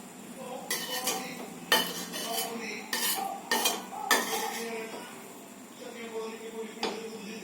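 Cooked noodles scraped and lifted from a pan onto a plate, with a series of clattering utensil-on-metal scrapes and knocks at close range, irregular and moderately loud.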